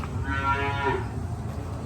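A Haryana buffalo lets out a single low, drawn-out moo close by on a farm, over a steady background rumble.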